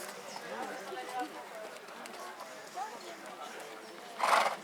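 A relaxed horse blows out through its nostrils in a short, breathy snort near the end, after a stretch of soft ambient noise and faint hoof movement at a horse demonstration.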